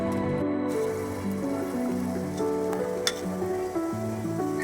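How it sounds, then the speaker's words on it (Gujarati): Mixed fenugreek bhajiya fry in hot oil, giving a steady, loud, close sizzle with continuous crackle and a few brighter pops throughout. "અને આ તળાય છે તો કેટલી સરસ એકદમ મસ્ત સુગંધ આવે છે"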